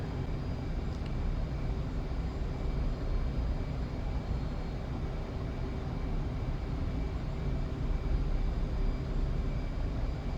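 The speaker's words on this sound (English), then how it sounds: "Be prepared for some very low and noisy high-speed passes" An F/A-18C Hornet jet in a combat flight simulator roars steadily through a very low, high-speed pass, a continuous broad rushing engine drone with no voices over it.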